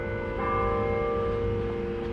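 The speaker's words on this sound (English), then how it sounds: "There's our second church we've been to with church bells." Church bells ringing outside a church in Youngstown, Ohio, a sustained ringing tone that hangs over a steady background rumble, continuous and moderately loud with no talk.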